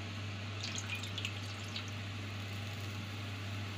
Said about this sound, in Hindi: चाशनी तैयार करने के लिए हम इसमें 1 गिलास पानी डालेंगे